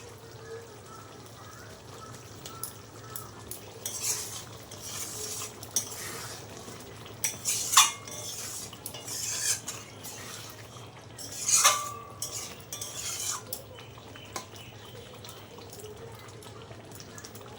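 A spoon stirs ghee and garam masala into mung dal cooked with pointed gourd in a pot, a quiet kitchen scene of soft scraping with a few sharp metal clinks spread over a low, steady hum.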